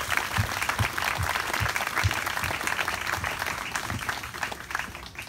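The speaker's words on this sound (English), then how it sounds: "Please join me in a round of applause." A crowd applauds at a Memorial Day ceremony at the Texas State Cemetery, with steady clapping from many hands throughout and a few louder individual claps standing out near the microphone.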